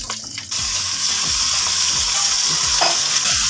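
Loud, continuous sizzling of small boneless chicken pieces frying with ginger and garlic in a hot pan, with stirring scrapes and clinks close by.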